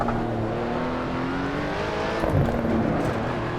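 Lotus 98T racing car engine in Assetto Corsa, a steady high-pitched droning roar at sustained revs with slight pitch shifts, loud and alone with no voices.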